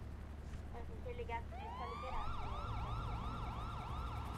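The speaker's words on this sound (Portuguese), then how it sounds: "Depois aí eu vou ligar a sirene de novo" A police car siren in GTA RP starts with short chirps, then settles into a fast repeating wail up close over low engine rumble, with no talk.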